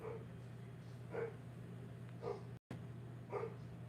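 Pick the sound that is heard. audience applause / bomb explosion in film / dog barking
dog barking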